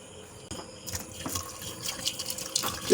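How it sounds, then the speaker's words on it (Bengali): Hot water splashes and trickles into a cooking pot in a home kitchen, a close, moderately loud pour with uneven gurgles and drips over a few seconds. "একটু গরম পানি দিয়ে দিলাম।"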